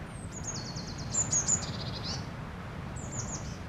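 Garden birds in Britain in winter call with high, thin chirps and quick trilled phrases, a few short bursts over a soft background hiss, fairly close.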